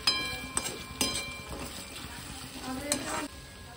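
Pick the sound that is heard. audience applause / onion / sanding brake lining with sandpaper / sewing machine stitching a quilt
onion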